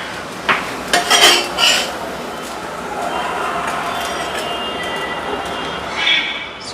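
An adai being lifted off a hot pan with a metal utensil in a home kitchen, giving a few close scraping and clinking taps early on over a steady low sizzle, then a last scrape near the end.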